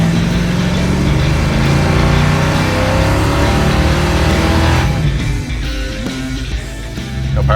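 A custom car with a slight exhaust leak runs loud and close, holding a deep rumbling idle with a rough, rasping drone, then easing down in the last few seconds as the engine note drops.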